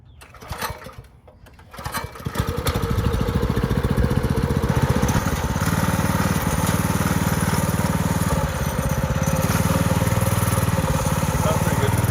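Mini Baja mini bike fitted with a Power Fist 212cc engine starts off on its first ride, the small single-cylinder motor revving up and holding a steady, buzzy drone close by.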